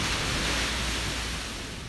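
Steady broadband wash of ocean surf rolling onto a beach, loud and continuous with wind-like hiss and no distinct breaks, fading slightly toward the end.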